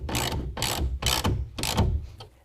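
A rail clamp on a Ranch Legacy tonneau cover on a 2019 Chevy Silverado 1500 being snugged up with a ratchet, giving four close, loud bursts of rapid ratcheting clicks with short pauses between them.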